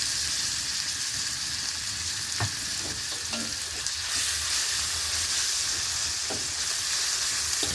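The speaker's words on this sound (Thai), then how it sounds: "กระเทียมได้ที่แล้วก็ใส่เห็ดหอมลงไปเลยครับนี่ครับ" Garlic and shiitake mushrooms fry in hot oil with a steady, close sizzle throughout, punctuated by a few soft stirring clinks and scrapes.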